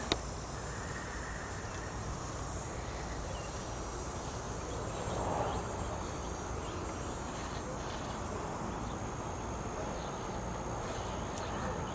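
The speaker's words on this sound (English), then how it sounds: "we hear so many grasshoppers and katydids" Backyard grasshoppers and katydids chirp in a steady, dense insect chorus that holds for the whole stretch without a break, moderately loud and even, with no voices over it.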